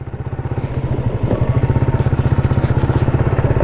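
A motorcycle is ridden along close by. Its engine beats in a loud, steady, rapid putter that builds slightly in strength, with no talk.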